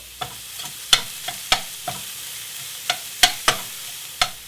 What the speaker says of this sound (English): Get that onion right in there. And get it working, browning.